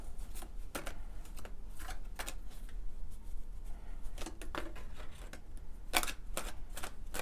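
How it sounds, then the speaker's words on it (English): Close, crisp snaps and riffling flutters of large tarot cards being shuffled, repeated in uneven bursts with short pauses between, no voices. "Let's see if I can shuffle them."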